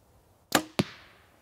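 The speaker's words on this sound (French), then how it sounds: "je vais tirer quelques flèches assis sur une chaise, comme si j'étais en situation de chasse" A Mathews V3 compound hunting bow is shot from a seated position: a sharp release snap followed quickly by a thwack of the arrow striking, with a brief ringing decay in a quiet setting.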